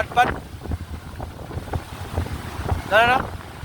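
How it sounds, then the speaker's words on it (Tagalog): Gusty wind rumbles and buffets the microphone outdoors near open water at Alona Beach, with brief bursts of voices at the start and end. "Tungod sa kakusog sa hangin"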